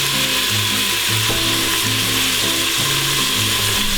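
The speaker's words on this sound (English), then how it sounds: "So you just want to kind of sear the outside, just brown it a little bit" Beef short ribs searing in an Instant Pot, giving a loud, dense, continuous sizzle with a few faint clicks underneath a steady run of tonal music.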